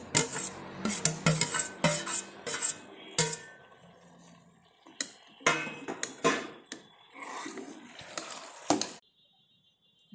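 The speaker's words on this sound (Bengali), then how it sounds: "ভালো করে নেড়ে নিয়েছি" A spoon stirring chopped vegetables, chana dal and rice in a pressure cooker for khichda, with repeated scraping and clanking bursts against the metal pot, close and loud, pausing briefly and ending in quiet.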